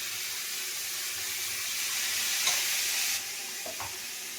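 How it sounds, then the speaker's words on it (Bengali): Banana stem frying in a pan in a home kitchen gives off a steady, soft sizzling hiss, with a couple of faint clicks near the end and no talking. "এই দেখুন থোড়টা এরকম ভাজা ভাজা হচ্ছে।"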